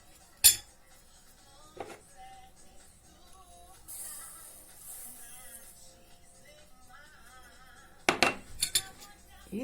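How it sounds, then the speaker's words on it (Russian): A metal spoon stirs sugar into melted honey in a pot, giving sparse clinks and scrapes against the sides with a few sharper knocks, quiet and close, with brief talk in between. "И то же самое перемешиваем, чтобы полностью сахар растворился."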